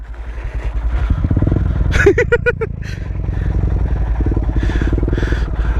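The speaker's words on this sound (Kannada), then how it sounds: "ಫಸ್ಟ್ ಗೇರ್ ಕ್ಲಚ್ ಬಿಟ್ಬಿಟ್ಟು ಸುಮ್ಮನೆ ಹೋಗಷ್ಟೇ" Motorcycle rolling in first gear with the clutch let out on a trail up Gavi Betta hill: a steady low engine drone, loud and close, with a brief voice cutting in partway.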